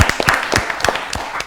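A studio audience at a quiz show claps briefly, scattered hand claps with a light patter at moderate distance and no voices.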